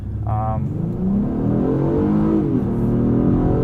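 A 2018 Acura TLX A-Spec SH-AWD pulls away from a standstill, its engine note climbing steadily in pitch as it accelerates, heard from inside the cabin with a brief tonal chime early on.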